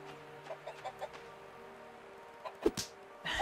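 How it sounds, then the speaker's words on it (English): Chickens in a video game cluck in short, scattered bursts over a quiet background, a few soft clucks followed by a louder squawk near the end. "there's chickens around the map"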